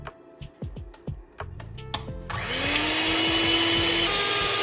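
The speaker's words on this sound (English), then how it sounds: "And then I'm gonna whisk it for about a minute for it to have a soft peak." An electric whisk beating ice cream mixture to soft peaks, a few clicks and taps at first, then a loud, steady motor whine that runs close and continuous to the end.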